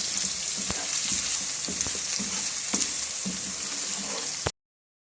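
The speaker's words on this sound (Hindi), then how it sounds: "अभी इस मसाले को हल्का सा फ्राई करेंगे ताकि ये जो मिर्चें हमने डाली हैं ये भुन जाएं।" Spice masala with red chilli powder sizzles and fries in a pan, a steady hiss broken by several sharp clicks and scrapes of stirring, ending abruptly.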